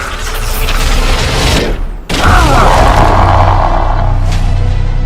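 A loud, booming impact blast hits suddenly after a brief dip, followed by a sustained roaring, crackling rumble.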